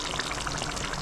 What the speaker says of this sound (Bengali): আমি 3-4 ফোঁটা আমি গোলাপ জল দিয়ে দিচ্ছি, আর 3-4 ফোঁটা কেওড়া জল দিয়ে দিচ্ছি।